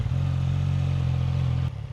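CFMOTO 675 NK motorcycle engine running close by, a loud, steady low throb with a fast rhythmic pulse that drops off sharply near the end as the revs fall.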